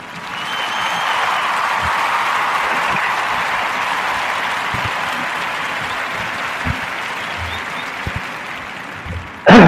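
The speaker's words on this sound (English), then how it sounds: "give a warm Narrative podcast round of applause" A long, steady round of applause from a crowd, sustained at an even level for several seconds before tapering slightly near the end.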